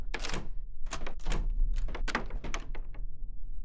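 In the horror video game Forsisted, a locked door is tried, giving a series of hollow wooden thunks and rattles in irregular bursts over a low steady hum, with no speech.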